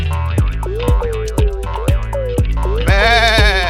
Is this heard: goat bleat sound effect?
yes